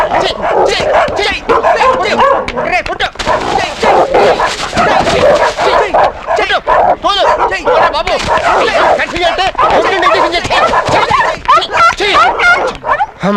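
Dogs bark and yip in a tense film scene, their calls busy and overlapping beneath loud dialogue and other dense scene sound throughout.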